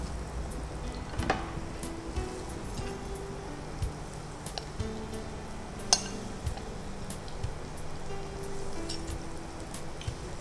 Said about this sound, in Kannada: ಇದು 4 ಸೈಡು ಸಹ ಫ್ರೈ ಆಗಬೇಕಿದು